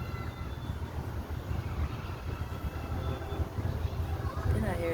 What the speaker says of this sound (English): Then I hear a train going by.